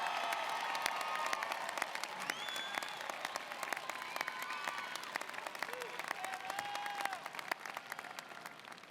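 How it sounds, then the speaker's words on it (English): A crowd at the Ohio University 2019 fall commencement claps for its graduates in sustained, dense applause that holds steady across the stretch and thins slightly toward the end. "So let's give our graduates another round of applause."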